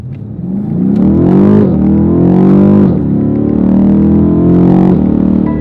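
A BMW M850i in Sport Plus accelerates hard in first gear, its engine note climbing loudly in a couple of rising sweeps that each drop sharply before climbing again, heard from inside the car.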